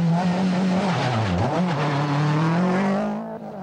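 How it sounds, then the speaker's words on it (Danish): A four-wheel-drive Toyota Celica Turbo rally car races on a special stage of the 1992 Hertug Hans Rally in the Danish rally championship. The engine is loud, close and continuous, dipping and rising in pitch through a gear change, then fading slightly at the end. "Selvom DM-favoritten Jens Mulvad i sin Toyota Celica Turbo med træk på alle fire hjul"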